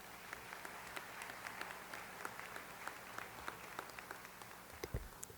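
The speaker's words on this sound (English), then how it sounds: "Let's give them one more round of applause." A commencement audience keeps up a steady round of applause, dense overlapping claps from a large crowd heard at moderate distance, holding evenly for several seconds with a few sharper claps near the end.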